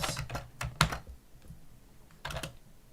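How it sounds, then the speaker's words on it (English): Someone types on a Swedish computer keyboard nearby in irregular bursts of clicky keystrokes with pauses between, no voices present. "I type with a Swedish keyboard."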